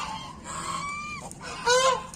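An injured duck at Brahma Sarovar in Kurukshetra gives a few honking, nasal calls nearby, with a drawn-out call first and then a sharper, louder one near the end, alone over faint outdoor background.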